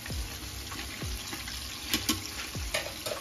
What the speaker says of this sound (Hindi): खूब देर तक फ्राई करना है, कम आंच पे गाइस, ताकि अंदर तक कुक हो जाए